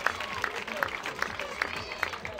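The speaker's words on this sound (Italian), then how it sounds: "Facciamo un grandissimo applauso a Daniele Iodice, Danilo Andrulli" Audience applause at an amateur boxing match between rounds, a steady wash of clapping from the crowd with periodic sharper claps, heard at moderate distance with faint voices mixed in.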